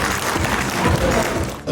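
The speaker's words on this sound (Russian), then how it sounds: "аплодисменты" Applause at a first-anniversary celebration for WasteNet KG, a waste recycling network in Kyrgyzstan: a dense, steady wash of clapping from an indoor audience that holds throughout and dips slightly near the end.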